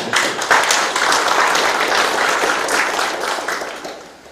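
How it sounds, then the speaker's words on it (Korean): An audience at a mayor's town-hall meeting with citizens breaks into loud, dense applause that holds steady for several seconds before tapering off near the end. "박수 한번 부탁드립니다."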